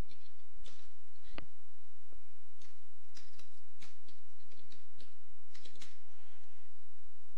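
Keys clatter on a computer keyboard as a command is typed, a run of light, irregular clicks and taps over a quiet low hum.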